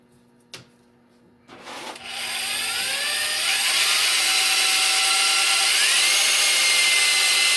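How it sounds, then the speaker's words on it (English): A hand drill bores into metal in a lathe workshop, starting after a couple of sharp knocks and then running as a loud, steady, high whining grind that holds close and continuous to the end. "I don't like hand drilling."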